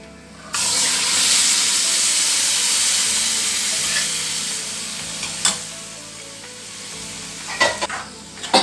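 Cooked brown chickpeas with salt being stirred into masala in a pan for Kerala-style kadala roast, a loud steady sizzle that settles, then a few scraping stirs near the end.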